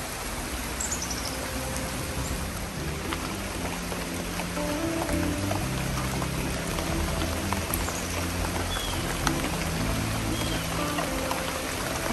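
Rainwater pours steadily out of a downspout beside a rain barrel in a cut flower garden, a continuous splashing rush with rain falling around it, no voices over it.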